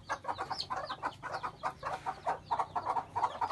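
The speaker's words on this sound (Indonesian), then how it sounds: "Nah, sementara 2 induk ayam ini menjaga 1 ekor saja." Two hens cluck in quick, rhythmic bursts while guarding a single newly hatched chick, close by and steady throughout, with no one speaking.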